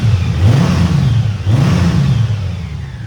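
The engine of a black-and-red 2018 Honda Goldwing 1800 DCT top-model motorcycle revs up steadily, a loud, continuous mid-pitched roar that rises and falls twice without any talk.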